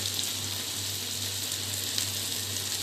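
Mushroom tomato curry masala fries in oil in a pan, giving a soft, continuous sizzle with faint crackles over a low steady hum, quiet and close.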